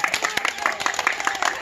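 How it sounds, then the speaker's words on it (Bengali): A small group claps after a water-drinking game, brief close hand claps with scattered uneven beats over a short moment. "সবার জন্য একটা জোরে হাততালি।"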